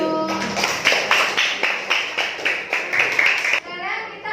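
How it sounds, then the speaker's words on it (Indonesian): Children in a classroom clap their hands together in a steady rhythm of about a dozen sharp claps, close and lively, with a voice at the start. "Tepuk tangannya buat Mas Deyu."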